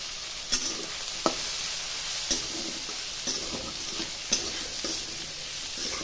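Ground chilli, turmeric and coriander powder sizzle in hot oil in a pan, a steady close frying hiss broken by a few sharp clicks of a spoon stirring against the metal.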